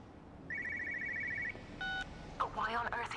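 Inside the video game Everybody's Gone to the Rapture, a telephone rings in a warehouse setting with a trilling electronic tone and then brief pulsing bursts, followed by a distorted, warbling phone voice.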